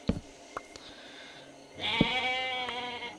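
A goat in the Minecraft mod Jurassicraft bleats twice, a short call early and a longer, wavering bleat near the end, with a faint knock in between.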